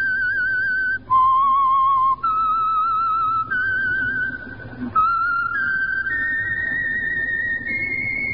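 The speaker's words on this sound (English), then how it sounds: "Let that whistle be your signal" A long whistled melody of clear, sustained pitched notes stepping up and down, carried by a human whistler over faint background noise, the theme of a 1949 radio show.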